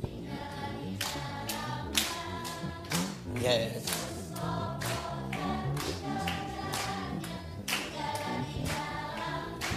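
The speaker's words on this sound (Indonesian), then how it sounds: "sambil tepuk tangan" A church congregation claps hands in rhythm during a Sunday sermon, a regular beat of sharp claps with music-like tones underneath, and a single brief spoken word partway through.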